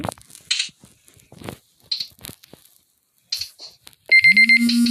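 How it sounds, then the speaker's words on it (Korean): An alarm sounds near the end as a loud, pulsing run of electronic beeps after scattered clicks and short game noises. "어 알람"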